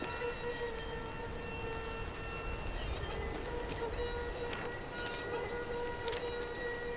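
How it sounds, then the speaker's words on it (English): Wailing air-raid-style sirens hold steady over a low, rumbling background, their sustained tones droning on at an even level without any voices. "When the final sirens faded"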